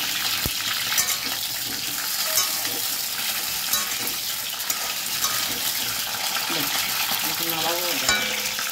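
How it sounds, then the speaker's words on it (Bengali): Pointed gourd (potol) fries in hot oil with a dense, continuous sizzle that stays loud and even throughout, broken by a few faint utensil taps. "ভাজা হয়ে গেল হালকা করে"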